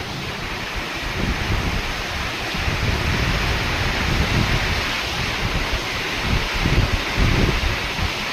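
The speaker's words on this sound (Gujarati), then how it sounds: "ફૂલ ઝડપમાં પવન સાથે છે વરસાદ" Heavy rain driven by strong wind roars in a dense, steady wash through trees and coconut palms, gusting in surges, loud and close with no voices.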